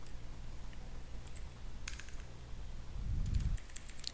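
Computer keyboard typing while writing CSS code, a faint scatter of light clicks in short runs over a steady low hum, with no voice.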